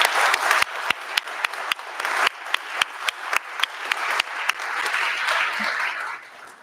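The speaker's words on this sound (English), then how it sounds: "So if we give them a round of applause." A crowd at a seaweed challenge event claps in a round of applause, a steady wash of many hands with a few sharper, louder claps standing out, fading slightly toward the end.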